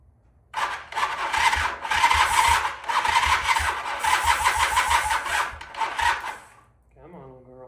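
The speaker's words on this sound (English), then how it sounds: "Let's see what happens when we jump that starter solenoid." Close, loud starter cranking on a 1981 Honda CM400 motorcycle, a steady raspy churning that runs for about six seconds in uneven surges before stopping, followed by a brief voice.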